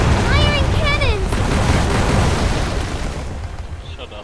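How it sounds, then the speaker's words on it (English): Ship cannons fire in the naval game Uncharted Waters Online, a loud, dense burst of booming blasts that fills the opening seconds and slowly fades, with thin whistling tones near the start. "Firing cannons!"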